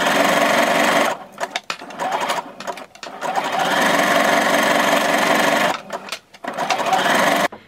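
A sewing machine stitches side seams of a sparkly dress with a zigzag stitch, whirring steadily in loud close runs with a few brief pauses where the motor stops and restarts.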